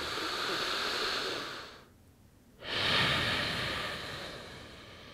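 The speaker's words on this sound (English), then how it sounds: "Deep breaths." Deep breathing after an intense at-home upper body workout: a long audible exhale, a short quiet pause, then a strong inhale that trails off, close and alone.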